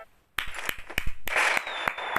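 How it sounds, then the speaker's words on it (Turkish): A burst of clapping and cheering erupts after a brief quiet, with sharp claps and a bright crowd-like wash, sounding synthetic and game-like: an applause effect in PUBG Mobile during crate opening. "Alkış alkış alkış alkış alkış."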